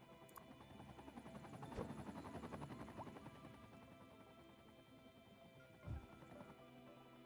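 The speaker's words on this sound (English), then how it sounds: "What's with all the helicopters in here?" Helicopters in a Cities Skylines 2 city-building game give a faint, steady rotor drone with a low rhythmic chop, quiet in the background with a couple of brief louder thumps near the end.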